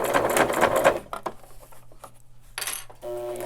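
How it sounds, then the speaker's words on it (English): A sewing machine stitching a three-layer fabric face mask runs in a fast, loud burst, stops, then runs in shorter bursts as it backstitches, with clicks and rattles from the machine in between. "and then I'm going to start sewing, and now I'm going to definitely backstitch"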